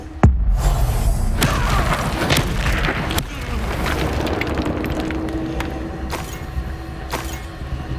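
Bombarda spell blast in the video game Hogwarts Legacy, a heavy booming explosion followed by creaking, rumbling debris and a few sharp cracks over a dense, loud background.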